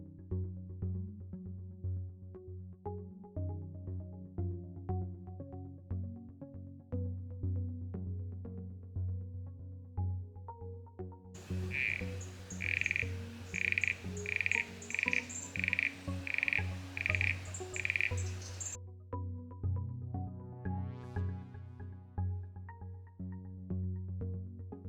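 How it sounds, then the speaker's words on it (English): Frogs croaking in a forest, a dense, steady chorus of low repeated croaks, with a brighter, louder run of rhythmic calls breaking in midway before the chorus carries on alone. "this time you can only hear a couple if you listen really closely"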